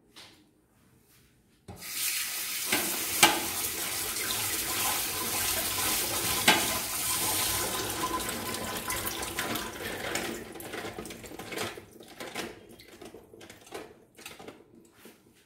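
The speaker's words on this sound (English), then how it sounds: "And I'll wash it with water." Salted cabbage being rinsed in a colander under running tap water, a steady close hiss and splash that starts abruptly after a quiet moment, with occasional knocks and clatter, then tapers into intermittent splashes and drips.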